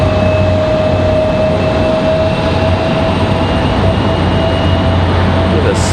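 A FedEx Boeing 767 jet lands at Raleigh-Durham airport, a loud, continuous roar with a steady whine layered over it, sustained close by for the whole stretch.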